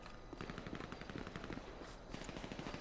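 Rapid automatic gunfire in a GTA 5 roleplay city, rattling off in quick, steady bursts that sound fairly distant and faint, with no talk over it.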